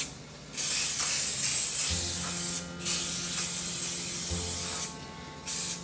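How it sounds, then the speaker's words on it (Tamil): Several long hissing bursts from an aerosol can of coconut oil cooking spray onto an idli plate, each a few seconds, with short pauses between them, close and fairly loud. "இப்போது இட்லி தட்டில் கோகோனட் ஸ்ப்ரே ஆயில் ஸ்ப்ரே"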